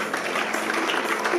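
A church congregation breaks into acclamations and applause, a dense, continuous spread of clapping with cheering voices mixed in, sustained and fairly loud throughout.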